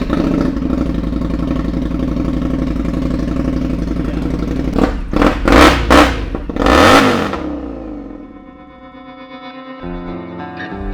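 Custom Kraus Moto bobber motorcycle engine running loud and close, with a rough steady idle, several sharp throttle blips and one longer rev, then settling back to a lower idle.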